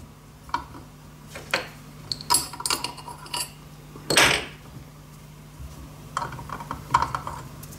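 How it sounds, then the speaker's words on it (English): Small metal tool clicks and taps on a hex nut and stud driver while fitting studs to the flange of a DIY steampunk backlit digital clock, scattered sharp ticks and clinks close by with quiet gaps. "And then you just loosen the hex nut and you can undo the stud driver."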